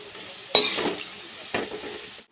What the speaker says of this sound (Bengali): তো আমার তেল গরম হয়ে গেছে, আর আমি প্রথমে আলুটাকে ভেজে নেব।